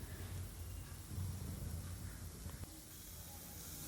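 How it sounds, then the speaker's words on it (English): Chopped spinach sautéing in a pan over low to medium flame after onion, ginger and garlic, a faint, soft steady hiss and light sizzle, close and quiet, with no talking. "on low to medium flame we will saute the spinach for 1 to 2 minutes until they start to wilt"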